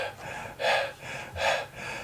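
Quick, shallow, anxious breathing in close view: two short sharp inhalations, each followed by a softer exhale, with no talking.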